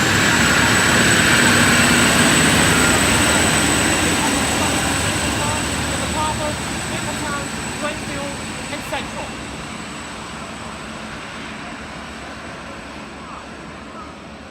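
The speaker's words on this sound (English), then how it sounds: "We have run number 1225 passing. 81 classes, leading a coal train." An 81 class diesel locomotive leads a coal train past at Menangle, New South Wales, a loud, steady broadband engine roar that is strongest at the start and slowly fades as it moves away, with no talk.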